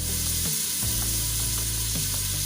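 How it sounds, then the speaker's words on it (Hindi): Dal gosht ingredients frying in a pan over a low flame, a constant close sizzle with a few soft scraping stirs breaking the steady hiss, no voices. "हल्की आंच से इसको भूनें। एक से 2 मिनट इसको भूनेंगे।"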